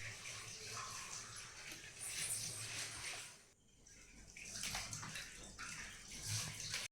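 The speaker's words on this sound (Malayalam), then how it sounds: "ഈ ഒരു വെള്ളം ഞങ്ങൾ വേറൊരു പാത്രത്തിലേക്ക് ഒഴിച്ചിട്ട് വീണ്ടും ഇതുപോലെ അരിച്ചെടുക്കുകയാണ് ചെയ്യുക" Water holding crushed arrowroot pulp is strained and poured into another vessel at home, giving a continuous splashing pour that briefly pauses midway and then resumes, faint and close.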